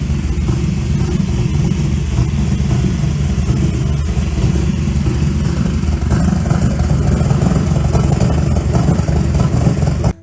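A 1966 Ford Cobra replica with a Chevrolet 427 Big Block V8, Jaguar rear end and Camaro fuel tank revs and rumbles close by, a deep, continuous engine drone with uneven surges throughout.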